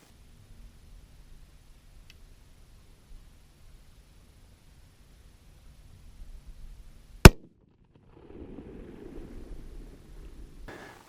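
A single sharp, loud crack from a Christensen Arms ELR .338 Lapua rifle cuts through a quiet outdoor scene, followed by faint rustling and wind noise.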